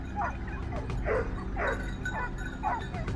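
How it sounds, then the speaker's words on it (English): Hunting dogs on a wild boar hunt bark and yip repeatedly, several barks in loose succession at moderate distance over a constant low rumble of background noise. "our loyal hunting dogs, the indispensable partners in any boar chase."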